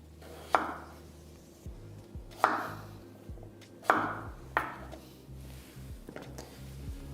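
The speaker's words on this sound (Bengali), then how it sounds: "এবার আমি এখানে কেটে নিচ্ছি কুমড়োটা এখানে আমি এরকম ডুমো ডুমোই কেটে নিলাম" A knife chops pumpkin into cubes on a board, giving about five sharp, close cuts with loose irregular spacing and softer knocks and scrapes in between.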